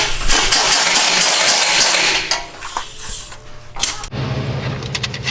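A 2015 Corvette C7 Z06 with American Racing long-tube headers and stock mufflers, its engine roaring loudly up close, then dropping into a lower, rumbling idle after a sharp change.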